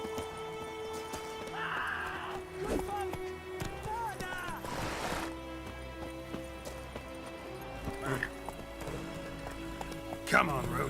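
Hoofbeats of Geralt's horse Roach galloping in The Witcher 3, a steady close clip-clop running under game music and frequent male speech.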